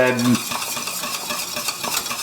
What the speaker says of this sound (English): It's very important that you keep whisking